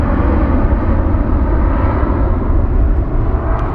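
A Cathay Pacific Boeing 777 departs London Heathrow, a loud, close, continuous jet engine roar with heavy low rumble and no break over a few seconds.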